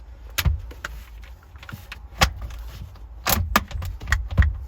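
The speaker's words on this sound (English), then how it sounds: "This now is the new battery going into place." A new battery is lowered into its tray in a 2007 Aston Martin Vanquish, giving several sharp metallic clunks and knocks at irregular intervals, close by, with quieter rattles and shuffling between them.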